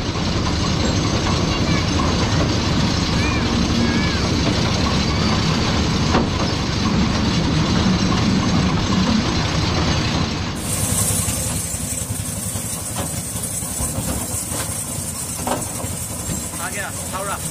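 A train runs past an open level crossing at the Howrah Rail Museum near Kolkata with a continuous close, loud rolling rumble and clickety-clack of wheels, easing slightly toward the end, while people talk over it.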